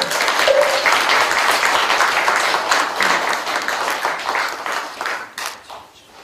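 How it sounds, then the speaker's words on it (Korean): An audience applauds at a Korean Buddhist Taego Order dharma rank conferral ceremony, with a full and sustained round of clapping that tapers off gradually toward the end. "큰 박수 부탁드리겠습니다."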